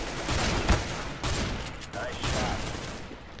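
CS:GO gunfire in a match, a quick burst of shots close and loud over a busy game background, with a voice talking over it.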